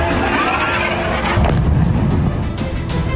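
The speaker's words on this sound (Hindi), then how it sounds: "चीख पुकार और धमाके की आवाज बेरूत में बर्बादी की कहानी बयां करने के लिए काफी है" Bombing in Beirut sets off heavy blasts, a deep, loud rumbling boom swelling around the middle with sharper cracks near the end, heard close over a continuous low roar.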